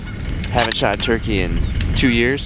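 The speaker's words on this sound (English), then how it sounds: "You can probably hear the geese right now." Geese honk on a South Dakota turkey hunt, a few calls mixed under someone talking close to the microphone.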